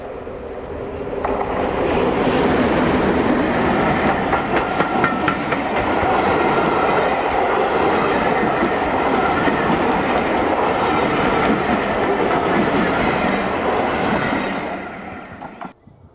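A Class 31 diesel locomotive, number 31466, climbs a gradient past a farm on a heritage line, its engine drone and rolling train noise building to a loud, steady pass before fading away at the end.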